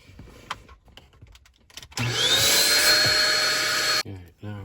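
A vacuum cleaner runs again on an Audi A4 ignition lock, revving up into a steady whine for about two seconds and then shutting off, with someone speaking before and after.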